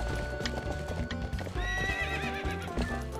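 A horse in Zelda: Twilight Princess HD gallops with rapid, steady clip-clop hoofbeats, then lets out a loud, shaky whinny partway through, all close and prominent over a faint game background with no talking.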